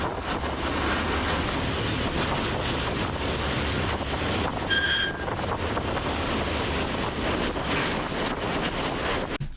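A train rumbles steadily along the rails through Bosnia and Herzegovina with dense low-end roar and wind buffeting the microphone, plus a brief high tone midway.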